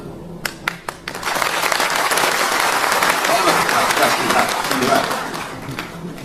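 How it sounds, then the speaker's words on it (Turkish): A few sharp individual claps lead into a full, sustained round of audience applause at a Turkish talk on poetry and Yunus Emre, holding steady before thinning out near the end. "Böyle arada bir alkış yapıyorsunuz ya, hani gaz veriyorsunuz"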